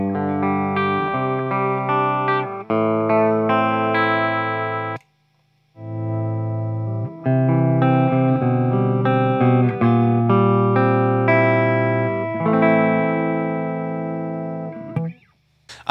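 Electric guitar played through an Engl Rebel 20 amp with a dry signal, sustained strummed chords and ringing notes in a loud, steady passage, briefly stopping once for a clear pause before resuming and fading at the end.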